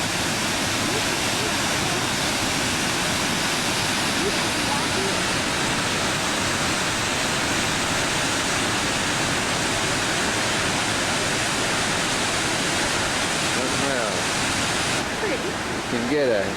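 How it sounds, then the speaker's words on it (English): Powerful, continuous rushing roar of Swampa Falls plunging into a canyon, the water churning below, heard close and loud throughout with no talking over it. "Here's looking at this down here a little lower on the Swampa Falls."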